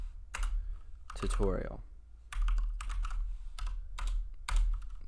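Rapid clicking keystrokes on a computer keyboard while entering text in GIMP 2.10, in quick irregular bursts mixed with someone talking over them.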